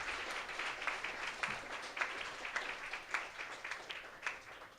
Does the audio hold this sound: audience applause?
yes